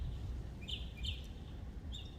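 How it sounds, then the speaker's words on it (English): A few small birds give short, high chirps, three brief bursts over a low outdoor rumble, fairly faint and at some distance. "I don't just listen to the birds chirp"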